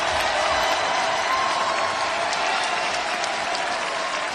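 Thousands of spectators in a pro wrestling arena clap steadily after an Ospreay match, a dense, loud, sustained wash of applause with scattered cheers running the whole time.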